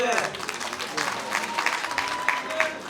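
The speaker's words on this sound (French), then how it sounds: "Applaudissements pour notre leader" A crowd at a Parakou women's event applauds its leader, steady clapping heard beneath a loud voice speaking over a microphone.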